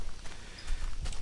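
A horse in Minecraft trotting with soft, quick clip-clop hoofbeats, a short close run of steps over a low rumbling background.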